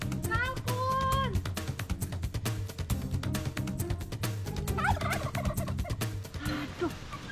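A turkey gobbling repeatedly in rapid, warbling bursts over several seconds, close and loud, with some speech and background noise mixed in.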